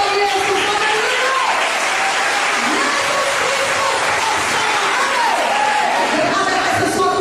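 A church congregation at a revival service applauds for Jesus, a steady, dense wash of clapping and crowd noise that holds loud from start to finish.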